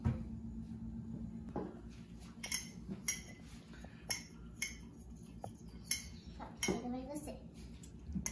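A spoon stirs chocolate mug cake batter in a mug, clinking and scraping against the sides in an uneven rhythm, fairly quiet and close.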